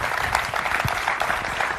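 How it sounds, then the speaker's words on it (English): Dense, steady audience applause in a hall for motorcycle racer Jorge Lorenzo at the unveiling of the 2016 Movistar Yamaha YZR-M1, a continuous wash of many hands clapping throughout. "Ladies and gentlemen, let's have a round of applause for Jorge Lorenzo."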